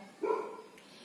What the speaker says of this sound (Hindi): पड़ोसियों के यहाँ भौंक रहा है कुत्ता